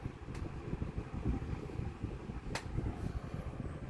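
A small 9-inch box fan hums steadily on its medium setting, a soft broadband whoosh of moving air with a low rumble underneath and a couple of faint brief clicks.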